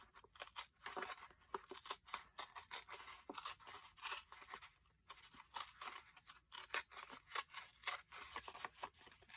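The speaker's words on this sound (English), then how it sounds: "I'm going to start here and I'm going to tear up" Paper being torn by hand into pieces for an abstract craft pocket, giving a long run of close, irregular ripping and crinkling bursts with short pauses between tears, no talking.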